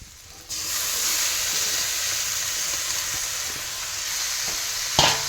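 Boiled pui greens hit a pan of fried spices with a sudden loud burst of sizzling that settles into steady frying hiss, with a brief scrape of stirring near the end.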